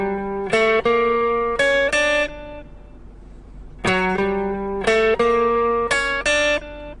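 Guitar solo line with chromatic approach notes around the minor pentatonic: two short phrases of clean plucked notes separated by a pause, played alone and up close.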